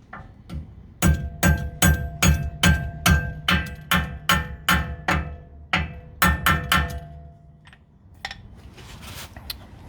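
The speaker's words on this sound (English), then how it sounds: "take a hammer and give it some light taps on the pin" Rapid light metallic taps from a small hammer on a brake pin of a BMW M car, a dozen or more in a quick rhythm with a ringing clink, then tapering off.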